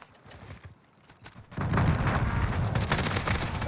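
MG34 machine gun fired in the Warzone video game, a brief quieter scattering of shots and footsteps, then sustained loud rapid bursts of automatic fire up close, with no talking.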